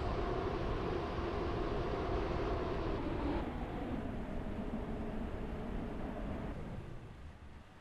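A Class 143 two-coach diesel train in a railway simulator game rumbles steadily along the line between Newry and Greenslade, a continuous broadband drone with no talk that eases slightly and fades toward the end.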